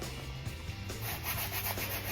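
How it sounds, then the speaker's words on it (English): A masonite board is sanded by hand before priming, the abrasive rubbing in quick back-and-forth strokes that scratch steadily and close up. "So I'm sanding down the masonite so it will accept the primer as well."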